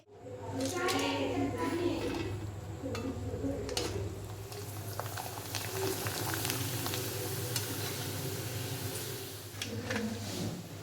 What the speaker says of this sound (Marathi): काहीतरी चटपटीत आम्ही खायला तर ते जरा फ्राय करून खाऊया